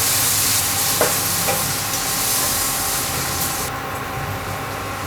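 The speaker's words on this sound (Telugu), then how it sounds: "మనం ముందుగా గ్రైండ్ చేసి ఉంచుకున్న మసాలా పేస్ట్ వేసుకుని కలుపుకోవాలండి" Ground masala paste is stirred into cooked-down tomatoes in a hot pan for soya chunk curry, giving a steady sizzle and frying hiss with a few scraping strokes, close and continuous without talk.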